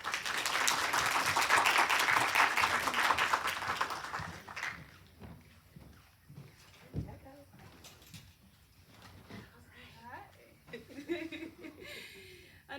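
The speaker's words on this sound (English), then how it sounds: "Another round of applause for Dr." Applause swells from an audience at a career talk, a dense, fairly loud burst of clapping lasting about four seconds, then giving way to scattered chuckles, murmurs and faint voices in a quieter room.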